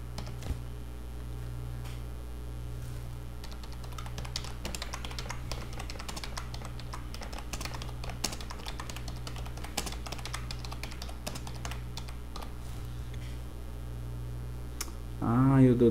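Typing on a computer keyboard at a desk, a long run of quick, irregular key clicks over a low steady hum, close and moderately quiet, with a brief louder rustle near the end.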